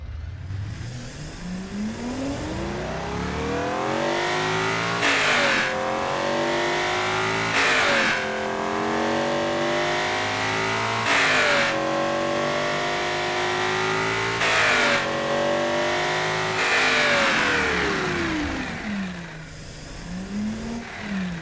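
A stock engine rebuilt into a tuned setup with a new welded header revs hard in repeated rising and falling bursts, loud and close, with no talking.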